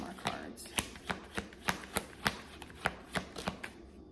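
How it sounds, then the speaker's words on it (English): Tarot cards shuffled by hand, a quick series of about a dozen crisp, close snapping riffles at a fairly even rhythm, alone without talk. "Let's pull out a couple more cards."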